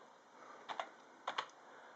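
Two quick pairs of keystrokes on a computer keyboard, close and clean against a faint hum, with a short gap between the pairs.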